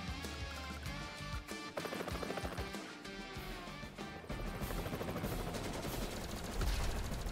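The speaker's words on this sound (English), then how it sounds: "Just move your battlecopter next to it and fire." Advance Wars 2: Black Hole Rising battlecopter attacking an enemy battlecopter, rapid retro game gunfire rattling over steady background music, continuous and moderately loud.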